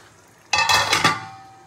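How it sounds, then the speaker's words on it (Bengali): Chicken Manchurian gravy in a pan gives a sudden close burst of sizzling and stirring scrape lasting about half a second, then settles back to a quiet low bubbling. "আমি এটাকে 5 মিনিট ফোটাবো গ্রেভির সাথে"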